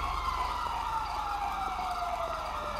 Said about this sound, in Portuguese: Chegou a ambulância aí.